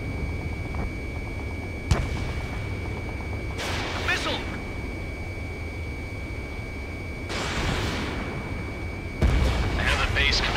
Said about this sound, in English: Missile!